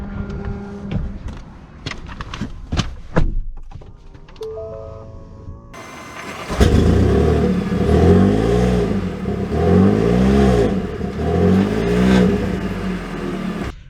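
A 2022 Ford F-150 Platinum PowerBoost hybrid pickup clicks and whirs quietly, then its engine wakes and pulls away with a steady, rising drone and repeated surges, heard from inside the cab.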